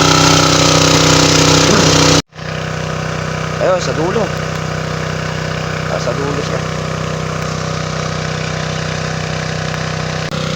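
A motorized power sprayer's engine drones steadily in a papaya orchard, loud and constant, broken by a sudden cut and restart; someone speaks briefly over the running engine.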